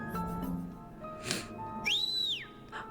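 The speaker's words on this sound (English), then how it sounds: "the other delinquent in track pants made a loud whistle" A loud rising-and-falling whistle rings out in the video game Tiny Bunny as a delinquent in track pants signals, following softer whistled tones and clatter, with no talk.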